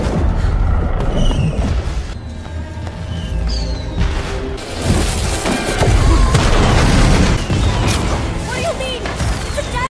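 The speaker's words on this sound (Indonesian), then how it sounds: "Casey memulai rencananya untuk menyerang Eskil dengan serangan kembang api" Repeated booming blasts and crackling bursts rumble loudly, overlapping with a busy, chaotic background and a few whistling streaks.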